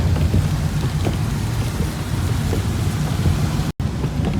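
Steady rain pours down, a continuous dense hiss of drops on surfaces with a low rumble beneath, without pause.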